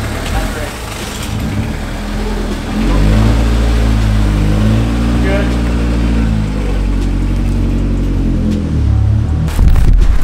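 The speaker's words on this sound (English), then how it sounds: "Let's take this freshly manual swapped Civic out." A freshly manual-swapped Honda Civic pulls away, its engine revving loudly up close through shifting pitch over a steady low drone, with a brief louder burst at the end.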